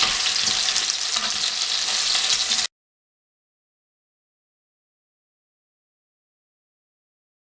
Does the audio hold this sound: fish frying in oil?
yes